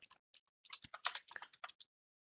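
Rapid typing on a computer keyboard, a burst of close, crisp key clicks in an irregular rhythm with brief pauses, no voices.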